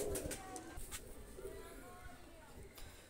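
A baby pair of Oman Teddy pigeons coos faintly under a steady wash of background noise, with a voice talking over them throughout.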